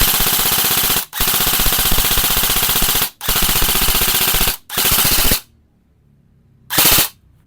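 ICS DD airsoft rifle firing on full auto with an SSS III E trigger, loud sustained rattling bursts, three long strings with brief gaps, a pause of near silence, then one short final burst.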